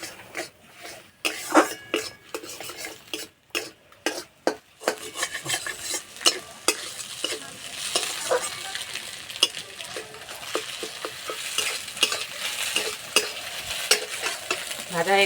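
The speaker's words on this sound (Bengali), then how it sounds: "ডিম দুটো ভুজিয়া করে ভেজে নেব।" Two eggs are scrambled and fried in a pan, with a steady oily sizzle under repeated clinks and scrapes of a utensil stirring against the metal, close and continuous throughout.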